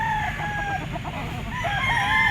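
A gamefowl stag, a bull stag kept among gray roosters, crows and clucks close by, with a dense run of calls continuing steadily over a crowded background of other fowl.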